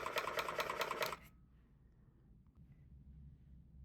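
A rug tufting gun runs at low speed in a rapid, even mechanical buzz for about a second, then stops, leaving quiet room noise.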